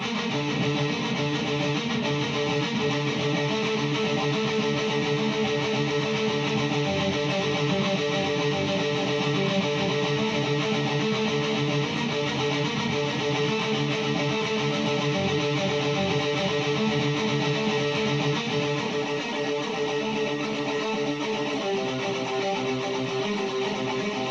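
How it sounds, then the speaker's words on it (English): A distorted electric guitar plays a heavy metal riff in a dense, steady wall of sound with a thick low end, loud and continuous for over twenty seconds with no talking. "That's going to sound more like a cool heavy metal guitar riff."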